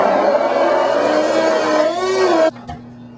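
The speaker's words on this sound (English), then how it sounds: "we're going to take our hand blender and mix it together" A hand blender runs steadily at close range while it purees milk, corn and spinach, a dense whirring that shifts slightly in pitch. It cuts off abruptly at about two and a half seconds, and a faint clunk follows.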